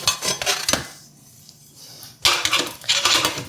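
Flour, baking powder, salt and cinnamon stirred in a bowl with a makeshift utensil, giving close, scraping clinks against the bowl in two bursts with a short pause between.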